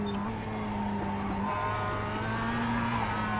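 A Mazda MX-5 Cup race car in the iRacing sim laps Summit Point Raceway. Its engine holds a continuous, moderately quiet drone whose pitch shifts slightly through a corner, with no talk over it.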